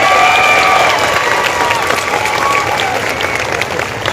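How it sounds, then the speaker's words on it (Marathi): Loud applause from a large audience at a public gathering in Latur, thick continuous clapping with some cheering mixed in, fairly close and sustained throughout with faint tonal traces above it. "टाळ्या जोरात झाल्या पाहिजे"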